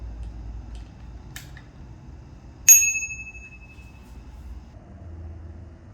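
A bicycle bell fitted to the left handlebar of a Velotric Discover 1 e-bike rings once, a single sharp metallic ding that rings out and fades over about a second above a quiet background.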